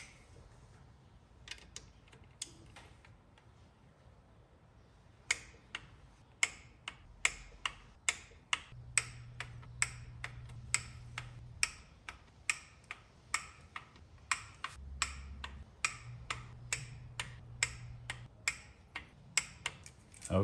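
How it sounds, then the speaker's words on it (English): A torque wrench clicks repeatedly while tightening transmission pan bolts on an 88-99 Chevy 1500, sharp close ticks coming in a steady run with faint background hum and no talk. "The final step is to torque each one to 10 foot-pounds."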